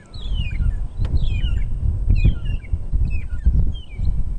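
A long-tailed shrike calls on a sunrise safari drive: a series of sharp, descending whistled and chattering notes repeats roughly every second over a low rumbling background of wind and vehicle noise, fairly close and clear.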